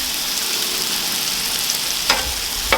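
Thin meat fries in a pan for a burrito bowl, a loud, even sizzle with a couple of brief bursts as it is moved or flipped, and no talking.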